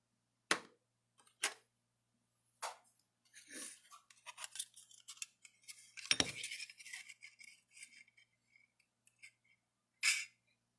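Sharp metallic punches from a disc punch cutting flower shapes out of sheet metal, several separate clanks spaced out among lighter clinks and handling rattles, close and alone with no talk.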